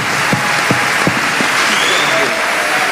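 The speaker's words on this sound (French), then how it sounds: "Marcus Mosiah Garvey, que je vous demande d'applaudir fortement, s'il vous plaît." An audience applauds at a lecture, a steady close patter of clapping hands filling the short moment, with a few sharper claps and a voice speaking faintly underneath.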